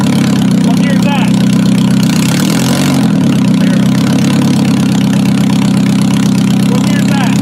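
A car engine, in poor condition, idles steadily and loud in gear with a low constant hum, a brief surge near the middle, and people talking over it.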